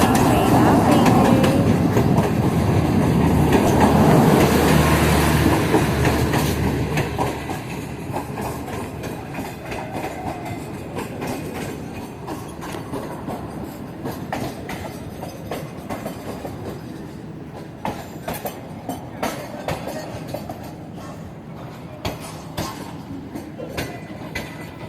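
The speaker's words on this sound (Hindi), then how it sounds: "और ये देख रहे हैं ट्रेन आ गई है।" A green line metro train arrives at a station, with a loud, close rumble that eases into steady rolling and rhythmic clatter from the wheels, and no talk over it.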